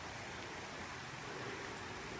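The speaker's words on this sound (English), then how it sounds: "So the creek is a whole lot louder than it was the other night." A big creek in the Smoky Mountains running loudly at night after rainfall, a steady broadband rush of water heard from nearby with no voices.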